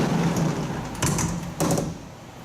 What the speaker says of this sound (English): So we're going to close the door